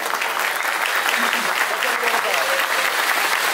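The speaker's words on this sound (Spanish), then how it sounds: "Vamos al corte de la cita con un fuerte aplauso" Sustained applause from a crowd at a hotel inauguration ribbon cutting, dense and steady throughout, with a voice faintly audible beneath it.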